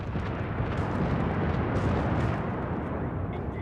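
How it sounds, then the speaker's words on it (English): Dense, roaring rumble of engines and water from a torpedo bomber run in World of Warships as it lines up and drops torpedoes, loud and continuous throughout with no talking. "So once again, lining up for a torpedo release."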